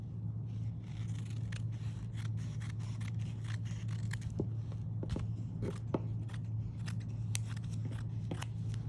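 Scissors snip through excess fabric while trimming a piece for hand sewing, a run of short crisp cuts and scrapes over a steady low hum, close to the microphone.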